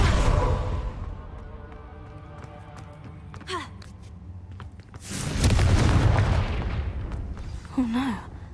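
Blasting spell explosions in the game Hogwarts Legacy, a loud booming burst with a rushing tail, with a few fainter impacts before it and a voice exclaiming around them.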